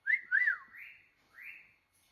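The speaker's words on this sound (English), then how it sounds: "He whistles." A pet bird whistles in a run of four rising-and-falling whistled notes, the first two loud and quick, the last two softer and drawn out, close by with no talking.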